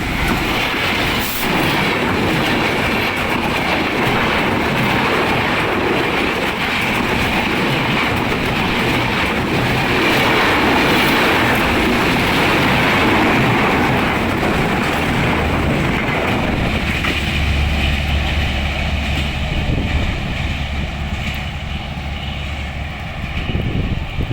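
A train from Khulna bound for Dhaka roars past close by for a long stretch, a dense, loud rush of wheels and carriages that eases slightly toward the end.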